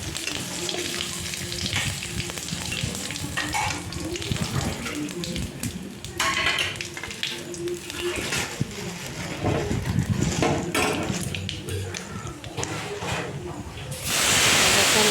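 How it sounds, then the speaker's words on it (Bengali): Bay leaf, dried chili and cumin sizzle in hot oil, with a bright crackling fry and scattered pops over a few clattering touches, and a louder hiss surging at the end. "তেল দেওয়ার পর বেশ ফোড়ন দেবো হচ্ছে তেজপাতা গোটা মানে শুকনো লঙ্কা দিলাম একটু ভিঙা সাদা জিরে"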